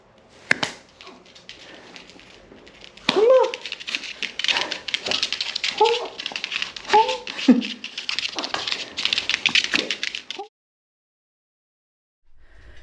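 An aging dog whimpers and gives short yips in a series of brief, close cries over a few seconds, with faint background noise, before falling silent.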